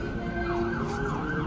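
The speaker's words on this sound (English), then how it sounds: "excuse the fucking siren in the background" An ambulance siren wails continuously in the distance behind the scene, rising and falling in steady sweeps with a faint road hum underneath.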